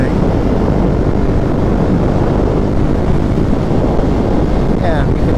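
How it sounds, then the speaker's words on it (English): A Husqvarna Svartpilen motorcycle ridden at speed behind a small windscreen on a hot sunny day: a continuous loud engine drone blended with heavy wind rush, steady throughout. "Yeah, you can definitely hear the bike a lot better now. It's not obnoxious, but it's noticeable."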